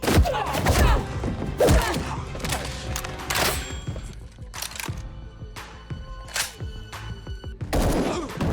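Submachine gun fire rips through a movie action scene in a bunker hideout in rapid bursts, mixed with heavy thuds and impacts under a dense, busy soundtrack.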